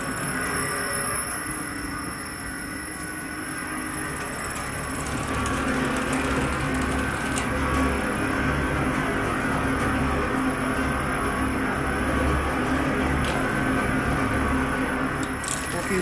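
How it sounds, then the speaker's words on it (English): A 1000L stainless steel paddle mixer for spice blending runs steadily during factory testing, giving a continuous even mechanical hum and rumble with faint rattling, loud and close throughout. "You can see that now the mixer is working."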